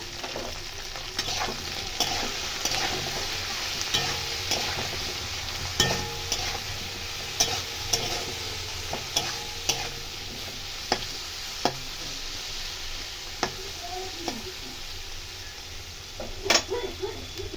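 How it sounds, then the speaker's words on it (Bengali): Sliced okra fries in oil in a pan, a steady close sizzle broken by frequent sharp clicks and scrapes of a spatula stirring against the metal. "এবার ঢেঁড়সটাকে আমি ভেজে নেবো"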